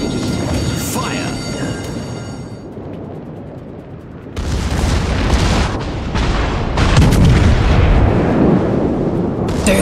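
Warship guns fire in a naval battle video game, producing heavy booming blasts and rumbling explosions with a low, continuous roar, while someone talks over the action.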